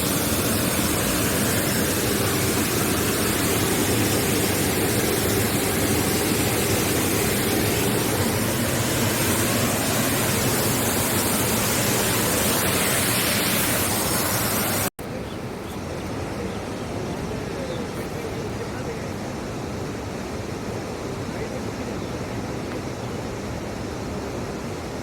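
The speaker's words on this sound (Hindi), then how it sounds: "जो पानी गिर रहा है ना, लेकिन झरने एकदम वाइट दूधिया पानी" Water pours steadily down the spillway of Panchet Dam near Dhanbad, a loud, unbroken broadband roar that drops to a softer, more distant rush partway through.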